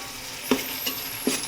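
Masala for pulao frying in a pan, a steady close sizzle punctuated by two sharp spoon taps against the metal as it is stirred.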